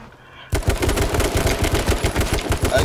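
Rapid bursts of automatic gunfire in the online battle royale game H1Z1, starting abruptly after a quiet moment and continuing loud and close in a dense, steady rattle for nearly three seconds.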